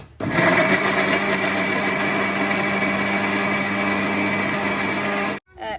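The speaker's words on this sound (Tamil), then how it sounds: "மிக்சியில் போட்டு அரைச்சி எடுப்போம்" A mixer grinder churns fish curry masala in a kitchen, starting abruptly into a loud, steady high-pitched whine that runs for about five seconds before cutting off and briefly restarting.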